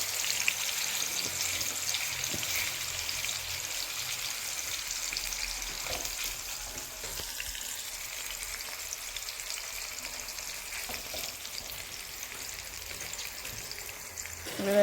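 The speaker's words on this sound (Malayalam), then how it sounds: "എണ്ണയിൽ പൊരിച്ചാണ്" Chilli chicken frying in hot oil, a steady dense sizzle and crackle that runs loud throughout with slight fluctuations and no talk.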